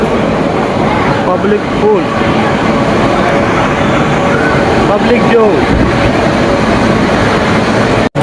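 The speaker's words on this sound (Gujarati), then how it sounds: "જસ્ટ અત્યારે ટ્રેન આવી છે." A train pulls into a crowded station, its rumbling wagons and rail clatter loud and close beneath a busy crowd, with someone talking over the noise.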